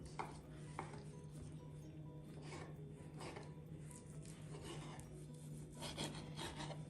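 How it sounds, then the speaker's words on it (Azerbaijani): A knife cuts cooked chicken breast into small pieces on a board, a series of quiet, soft rasping chops and rubs spaced irregularly, faint and close, with no speech. "İndi isə ətləri xırda-xırda doğrayırıq."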